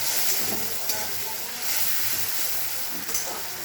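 Tomato fried in oil with a pinch of salt, a steady close sizzle and hiss throughout with light stirring scrapes, no talking.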